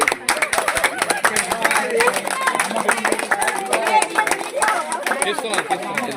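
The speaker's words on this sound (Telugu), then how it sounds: "చప్పట్లు ఒకసారి మళ్ళీ ఒకసారి చప్పట్లు క్లాప్స్ కొట్టండి." Family members clap together at a home birthday cake cutting, a dense run of sharp, overlapping claps lasting throughout, mixed with lively chatter and background voices of the gathering.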